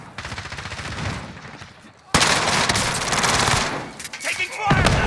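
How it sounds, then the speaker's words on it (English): Video game gunfire from Call of Duty Warzone on Rebirth Island: after a quieter stretch, loud bursts of rapid automatic fire break out and continue in dense volleys with scattered single shots, close and intense. "Taking fire!"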